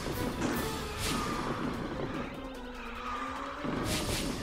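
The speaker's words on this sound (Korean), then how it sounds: "아, 더블 드리프트." Kart tires squeal through a double drift in KartRider Rush+, with tonal skid screeches rising and falling over a steady engine whine and brief bursts of noise.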